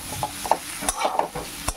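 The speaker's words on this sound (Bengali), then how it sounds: "আচ্ছা, এখন একটু নেড়ে নেব" A spoon stirs spices and dried curry leaves with a little sugar in a hot pan: a few short scraping strokes and light clinks over a soft background sizzle, close and fairly quiet.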